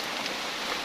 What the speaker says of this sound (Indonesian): Dan sekarang dari pagi sampai jam segini tuh masih hujan.